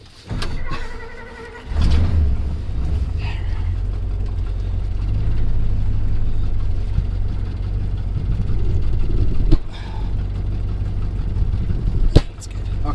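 The engine of a 1960 Dodge Dart Phoenix, a resurrected field-find survivor, rumbles low and steady through a short drive after a couple of clunks at the start, with an occasional sharp knock and bump over the continuous drone.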